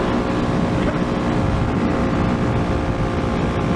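A Kawasaki KLX250S dual-sport motorcycle fitted with a snorkel intake mod runs at top speed, its engine a steady loud drone heavily mixed with wind rush, unbroken throughout.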